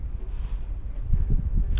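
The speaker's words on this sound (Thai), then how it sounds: "ลมมันแรงนะครับ" Strong wind buffeting a microphone outdoors at a condominium backyard, a loud, uneven low rumble with gusty bursts throughout, no speech.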